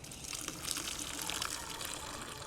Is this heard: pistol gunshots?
no